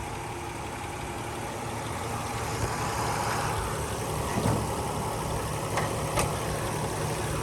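A 2007 Honda Odyssey minivan engine idles steadily at close range, an even low rumble with a few faint clicks and no one speaking.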